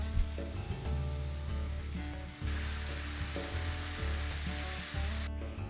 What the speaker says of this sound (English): I'm going to stir this together and let it cook for about 1 minute